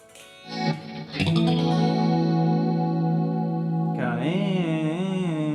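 Electric guitar chords through an Analogman analog chorus pedal ring out with a shimmering, swirling chorus effect, the wobble becoming more pronounced as a sustained chord fades near the end.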